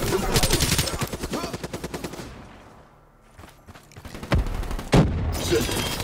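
Bursts of automatic gunfire and booming shots in a Call of Duty: Black Ops III team deathmatch, loud and dense at first, easing briefly, then returning with heavy impacts, with radio-style game announcer voice lines mixed in.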